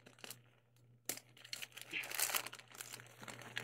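Plastic packaging around a terry cotton waterproof mattress cover is pulled open, giving close crinkling and tearing with a louder rip partway through, all faint, over a steady low hum.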